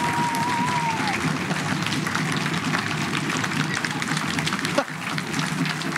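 An audience at an evening event in Corsica breaks into sustained applause, a dense continuous clapping from a large crowd that stays steady for several seconds, with a brief whistle near the start.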